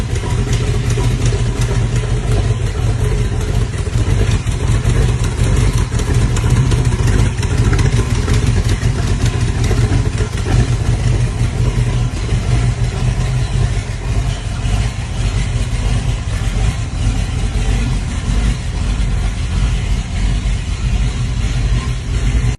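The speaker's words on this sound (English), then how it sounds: "Power comes from a Chevrolet small block V8 stuffed into the tiny mini frame" A 1978 Austin Mini Coupe, bagged and swapped to a Chevrolet small block V8, runs at a steady idle. The loud, constant engine rumble with a rough clatter stays close throughout, with no voices heard.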